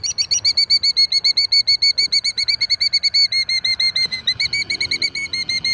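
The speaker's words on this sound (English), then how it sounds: "That is the most gorgeous bird I've ever been screamed at" A large, striking bird on a farm beats its wings in rapid, steady flaps close by, with high, sharp calls ringing out over the wingbeats throughout.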